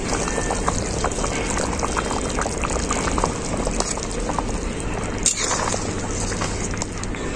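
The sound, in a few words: chicken and new potato curry broth boiling in pot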